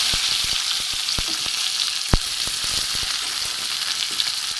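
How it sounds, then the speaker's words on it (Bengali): Chopped garlic and onion frying in mustard oil, a bright, steady hiss of sizzling with scattered sharp pops and crackles, close and fairly loud throughout. "তেল আমি দিয়ে দিয়েছি, সর্ষের তেল। এতে আমি দেব রসুন কুচি"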